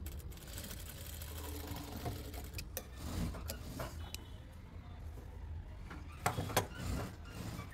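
Sewing machine stitching a belt onto a saree, short bursts of rapid whirring with pauses and a few sharp clicks, fairly faint.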